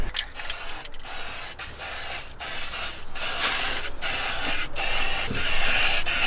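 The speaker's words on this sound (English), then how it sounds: "Start spraying, dude." Aerosol spray paint hissing inside a car's interior, applied to a Lexus LS400 cabin, in long continuous bursts broken by brief pauses, loud and close with no talking.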